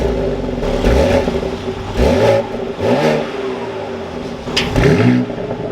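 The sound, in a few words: 2023 BMW X3 M Competition engine starting up and revving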